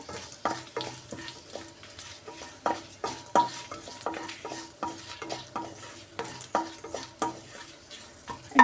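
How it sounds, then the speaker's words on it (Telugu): Dry red chillies fry in about three tablespoons of oil in a pan, sizzling steadily while a spoon stirs them in a quick, regular rhythm of scrapes and light clanks, close and fairly loud, with no talking. "ఎండుమిరపకాయలు వేస్తున్నాము"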